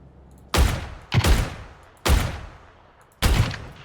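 Gunfire in the battle royale game PUBG: four sharp, loud shots, some doubled, spaced irregularly over a few seconds with booming low tails and reverberant decay, no talking.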